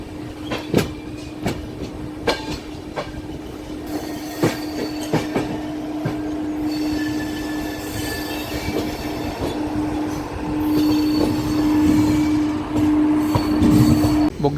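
The Tirumala Express on its first extended run from Kadapa to Guntakal rumbles steadily from on board, with rhythmic clickety-clack wheel beats, a sustained hum and occasional wheel squeal building louder toward the end, with no talk.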